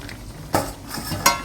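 Spices and yogurt stirred together in a pan for South Indian chicken biryani, a soft scraping stir with two sharper clinks of a utensil against metal.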